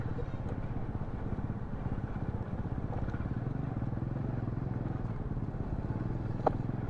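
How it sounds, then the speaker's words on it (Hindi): A motorcycle ridden along a road in Karachi, its engine a steady low chugging drone heard close and continuous, with faint clatter and a brief sharp knock near the end. "बाइक लेके बहुत आगे तक आ गया हूँ।"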